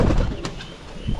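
A pigeon being bathed gives a close, clear cooing call, with soft rustling and splashing around it and no voices.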